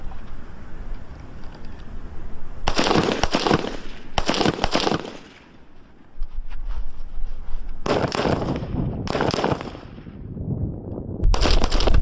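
Several loud, sharp gunshots from a Glock 35 .40 caliber pistol, fired in a few clustered bursts with brief pauses between, close and echoing over steady outdoor background noise.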